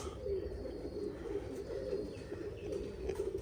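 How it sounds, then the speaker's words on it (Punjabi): A pigeon just back from a high flight coos steadily at a rooftop loft, a soft, continuous low rolling coo close by and fairly quiet, with no talk over it. "ਜਿਹੜਾ ਵੱਧ ਉੜਿਆ ਕਬੂਤਰ"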